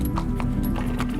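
A galloper horse moves at a free, easy pace, its hooves clip-clopping in a quick, even rhythm close by, with a low hum running underneath.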